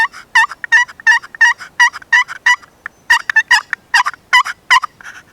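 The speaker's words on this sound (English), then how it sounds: "So that's the box call right there." A wooden turkey box call played in a rapid series of sharp, raspy yelps, two bursts of evenly spaced notes separated by a short pause, loud and close with no voices.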